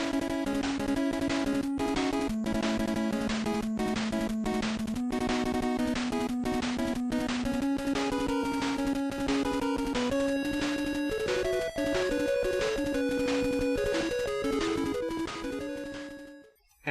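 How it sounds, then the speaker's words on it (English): Chiptune from Dr. Wily's first stage in the NES game Mega Man 2 plays as a busy, continuous 8-bit melody over a driving bass line and rapid square-wave arpeggios, loud and steady before cutting off at the end. "let's listen to a bit from the 8-bit music of Mega Man 2."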